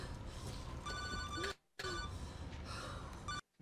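A Motorola Razr cell phone rings in repeated electronic ringtone bursts, two long ringing phrases separated by brief silences, fairly loud and close with a dense musical background underneath.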